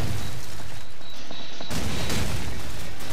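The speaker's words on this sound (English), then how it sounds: "the nades are just flying in here" Grenade explosions in Call of Duty 4, with a dense, heavy rumble of blasts and gunfire that stays loud and continuous, with a sharper burst about halfway through.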